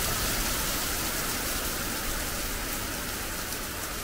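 Steady, heavy rain falls in a dense, even hiss that fills the whole clip. It is loud and constant, with no voices, on a wet evening during a motorcycle trip from Norway to Italy.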